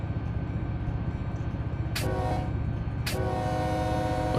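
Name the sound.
train horn at crossing in Run 8 Train Simulator video game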